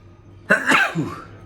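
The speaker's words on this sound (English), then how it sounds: "oh hang on, I'm going to sneeze" A single sharp sneeze bursts out close by after a brief quiet moment, trailing off with a short breathy tail.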